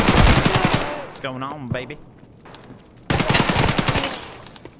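Rapid automatic gunfire from Escape From Tarkov, loud bursts of shots at the start and again near the end, with someone speaking briefly in the quieter gap between them.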